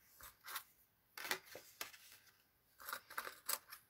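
Scissors snip through scraps of paper in quick bursts of two or three cuts with short pauses between, close and fairly quiet, no voices.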